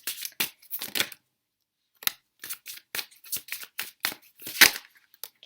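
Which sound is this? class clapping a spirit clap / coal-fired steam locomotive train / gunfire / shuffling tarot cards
shuffling tarot cards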